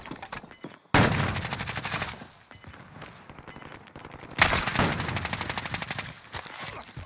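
Dense automatic gunfire in Call of Duty: Modern Warfare Warzone, with long rattling bursts and sharp cracks, loud and close, one heavy volley near the start and another midway through.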